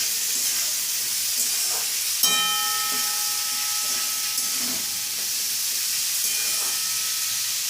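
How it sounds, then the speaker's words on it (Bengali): Vegetables dusted with turmeric powder sizzle steadily in a hot frying pan, with soft scraping strokes of stirring running under the constant frying hiss. "এবার সবজির সাথে ভালো করে মিশিয়ে নিচ্ছি।"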